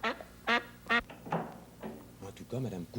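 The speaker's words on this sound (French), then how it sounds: "C'est un canard." A duck quacks repeatedly in short nasal bursts, several calls close and fairly loud, interleaved with voices speaking in French nearby.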